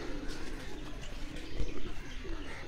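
Green pigeons coo in a farmhouse aviary, their soft repeated calls layered over a dense, busy background of other birds, with a brief low thump partway through.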